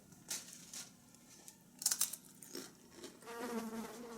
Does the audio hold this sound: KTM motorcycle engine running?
no